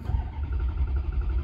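Engine of a Maserati GranSport just after the start button is pressed, with a deep, rumbling idle and small rhythmic pulses, close and steady, no voices over it.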